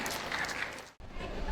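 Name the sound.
applause welcoming a speaker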